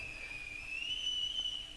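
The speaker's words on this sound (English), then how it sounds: "with a strange whistling noise" Strange high whistling noise effect at a live concert in Buffalo in 1974, a thin sustained tone slowly gliding in pitch, faint over a low background hum.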